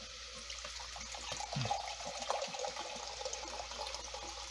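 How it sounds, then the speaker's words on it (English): About a cup of water pours into a pressure cooker holding lamb stew, a steady splashing trickle with a few louder gurgles, close and continuous for several seconds with no talk. "I'm going to go ahead and add about 1 cup of water."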